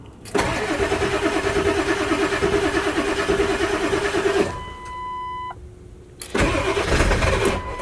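A diesel truck engine cranks loudly and rhythmically for several seconds, stops briefly with a beeping tone, then cranks again, almost starting but not catching.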